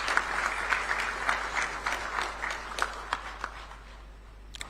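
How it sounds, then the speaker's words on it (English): A live audience applauds a speaker after the introduction of Ghana's President John Dramani Mahama at a presidential media encounter, a steady wash of many hands clapping that gradually thins out, with no talking. "Shall we give him a round of applause, please?"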